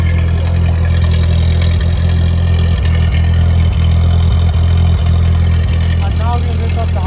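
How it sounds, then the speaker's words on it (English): A 1940 Ford 9N vintage tractor idles loudly and steadily up close as its PTO lever is engaged, the low engine rumble constant throughout, with faint clunks and someone speaking over it. "I'm now going to engage the PTO using this lever."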